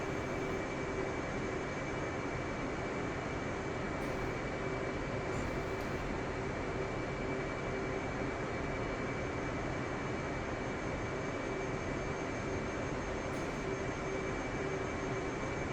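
An F/A-18C jet taxiing on an airfield in a flight simulator, a steady, loud engine whine and roar with a constant tonal hum, unchanging throughout with no talk.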